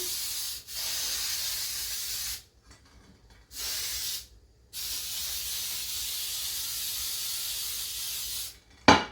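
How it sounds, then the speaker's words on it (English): Long bursts of hissing aerosol baking spray into a pan at close range, interrupted by short pauses, ending with a faint clunk; nobody speaks. "and we're going to spray our pan."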